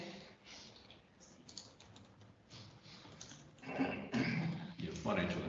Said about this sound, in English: Typing furiously up there